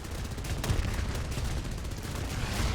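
Rapid aircraft machine-gun fire from War Thunder, a dense continuous rattle of bursts with engine roar behind it, loud and close throughout, with no voice over it.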